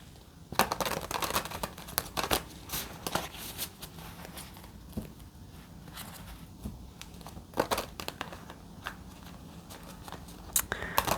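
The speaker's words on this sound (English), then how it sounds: "Shuffle." Tarot cards being shuffled by hand in a quiet room, with irregular soft riffles, slaps and rustles over about eleven seconds and no talking.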